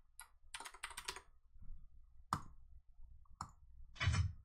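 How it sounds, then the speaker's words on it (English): Keys on a computer keyboard clack in short bursts, a quick cluster of taps followed by scattered single presses, close and crisp in a quiet room. "We're going to type some new stuff in here."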